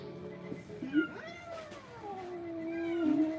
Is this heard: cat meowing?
yes